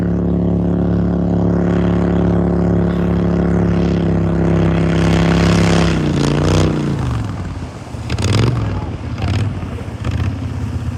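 A loud Mud Buddy surface-drive mud boat motor with an aftermarket exhaust roars with a deep, raspy exhaust drone, then revs down and sputters before picking back up unevenly.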